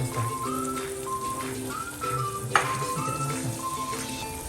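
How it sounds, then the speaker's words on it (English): Eggs cook in a heated pan at low heat for a midnight sandwich, giving a soft, steady sizzle with light crackles, close by. Faint whistling tones and one sharp tap also sound. "So after the pan is heated, just put the eggs into our pan and just crush it up."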